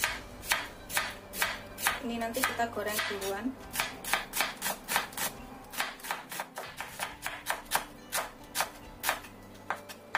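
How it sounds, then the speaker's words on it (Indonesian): Two shallots are sliced thinly with a knife on a cutting board, a fast, regular run of close, sharp chopping taps, with someone briefly speaking over the early strokes. "Kita rajang tipis 2 butir bawang merah."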